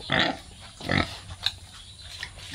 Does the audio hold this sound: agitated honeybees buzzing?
no